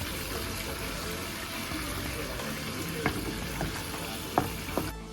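Meat sizzles in a pan with a spice mixture as it is stirred, a steady close frying hiss with a few sharp utensil clinks toward the end.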